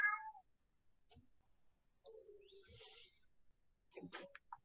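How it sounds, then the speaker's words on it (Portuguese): A cat meows at a door during a philosophy lecture. Its faint meows come at the start and again later over a quiet room with low background noise. "Tem um gato na porta me chamando."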